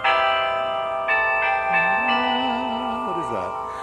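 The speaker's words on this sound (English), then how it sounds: "Some of the bells need a little bit of tuning." Bells in Central Park's Children's District ring slightly out of tune with repeated, sustained metallic chimes whose overtones overlap, while a voice talks briefly underneath.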